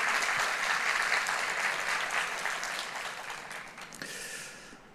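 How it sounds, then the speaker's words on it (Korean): A church congregation at a Sunday worship service claps warmly for the conductor and choir, with dense, sustained applause that gradually thins and fades toward the end. "지휘자와 또 우리 찬양대를 위해서 우리 뜨거운 박수 한번 치도록 할까요?"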